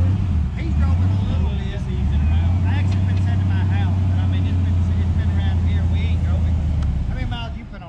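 Low, steady rumble of a Ford Mustang Foxbody engine with stock exhaust idling and lightly revving nearby, with people talking over it.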